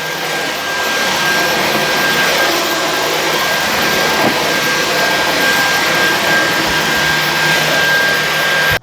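Dyson V15s Detect Submarine cordless vacuum running on boost mode, a loud, steady, high-pitched whine and airflow roar held continuously and heard alone.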